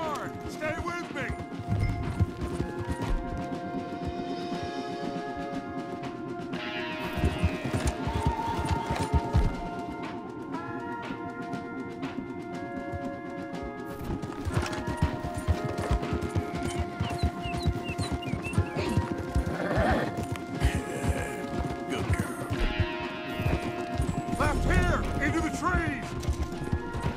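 Horses gallop hard in the Red Dead Redemption 2 video game, a steady rapid clip-clop of hooves running throughout, with game music and characters talking over it.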